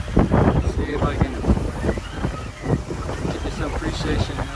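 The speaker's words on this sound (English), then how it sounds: "get you some appreciation of the waves just rolling in here. They're big." Big ocean swells rolling in around a sailboat during the northeast monsoon, heard as a steady wash of water and heavy wind buffeting the microphone, loud and close throughout.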